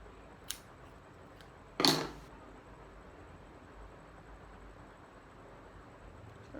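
Scissors trimming the ends of natural hair give two crisp, close snips, a faint one followed by a louder one, then a quiet stretch with no talking.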